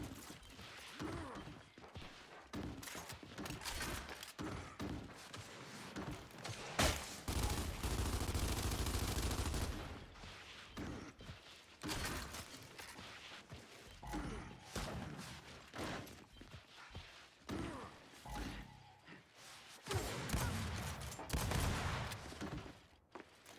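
Rapid gunfire in the shooter game Gears of War, repeated bursts and single shots spread across the clip with a sustained loud stretch in the middle, heard alongside occasional game effects.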